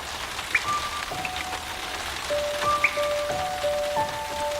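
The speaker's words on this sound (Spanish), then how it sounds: "Y si pudieras oír el verdadero sonido de la lluvia," Steady rain patters on a surface, a dense, even wash of drops with occasional louder individual splashes, continuous and alone with no voices.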